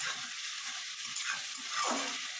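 Brinjal and potato pieces fry in a pan with a continuous soft sizzle and hiss, broken by faint scraping stirs, heard close and fairly quiet with no voices.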